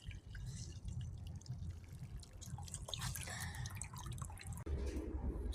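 Water pours and drips steadily from a shower head, a continuous close splashing patter with a brief break near the end.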